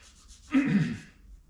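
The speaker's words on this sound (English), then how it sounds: "I'm just going to kind of scuff these just enough to where that'll kind of help adhere to it." One short rubbing scuff of abrasive against a 1955 Chevy part before self-etching primer, a brief close swipe lasting about half a second amid quiet.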